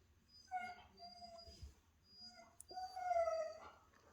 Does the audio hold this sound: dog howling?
yes